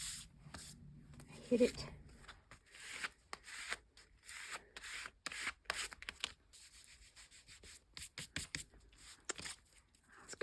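A small scraper rubbing across paper in a paper bag journal, heard as close, intermittent scratchy strokes of varying length, with a person speaking briefly early on.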